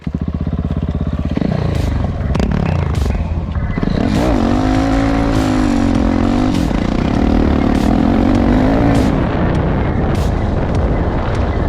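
A KTM SMC 690 R supermoto from 2015 roars loudly in fifth gear across a field, its single-cylinder engine holding a steady, close drone with a rising whine and wind buffeting, no voices.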